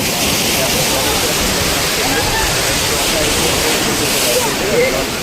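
Waves slosh and splash continuously against a river shore as the tide rises, with launches moored nearby, forming a loud, steady broadband wash with no distinct breaks.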